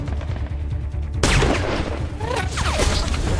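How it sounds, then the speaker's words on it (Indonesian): Film gunfire erupts suddenly after a quiet rumble, followed by sustained loud bursts and whizzing streaks, like an intense firefight. "sehingga salah satu teman Brandon terkena tembakan."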